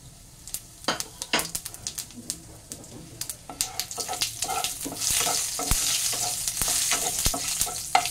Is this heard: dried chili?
yes